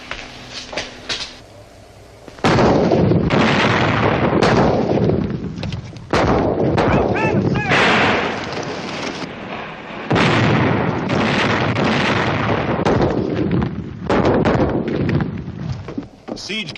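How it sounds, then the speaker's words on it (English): Heavy siege guns and cannon in an artillery bombardment, loud booming blasts that roll on and overlap in a sustained, thunderous barrage after a brief quieter moment. "Siege guns. Bigger than anything we've got."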